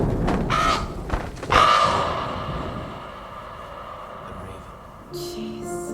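A raven gives two loud, harsh caws close by, followed by a lingering low resonant tail and a faint later sound, with no talk over it.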